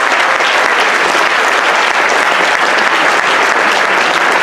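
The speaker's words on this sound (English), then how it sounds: "So let's just clap for Shane." A seminar audience clapping together, a dense steady burst of applause that stays loud and even from start to finish, with no speech over it.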